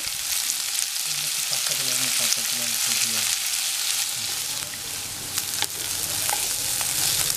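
Onion and green chilli sautéing with a pinch of salt in a pan for Tamil-style paruppu dal, giving a continuous close sizzle with intermittent stirring clatter and no voices.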